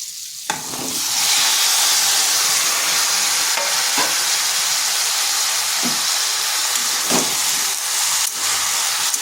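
Potato and pointed gourd fry in a hot pan with more vegetables added for a pumpkin dish, making a steady loud sizzling hiss with occasional clinks of stirring.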